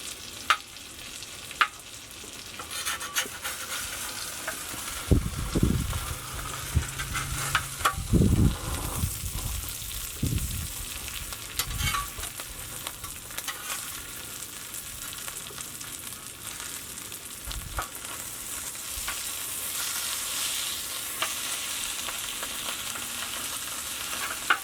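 Cheese melts and fries on a hot griddle for a Philly cheesesteak, a constant soft sizzle throughout, broken by a few low thumps and scraping bursts from the cooking, with no talking.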